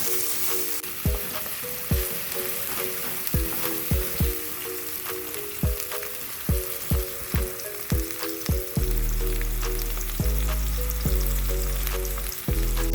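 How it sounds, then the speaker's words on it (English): Curry vegetables fry and get stirred in a pot: a constant loud sizzle with regular scraping spoon strokes about every half second, then a denser, heavier sizzle later on, all over a steady tonal hum. "we're making curry vegetables today, guys, so you know I'm gonna burn all these nice stuff. Yeah, you know, mix it up."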